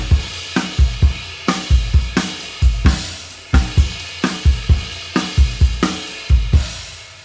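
A bossa nova groove played loudly and aggressively on a drum kit, with hard, evenly spaced hits ringing out in a steady repeating pattern, alone with no voices.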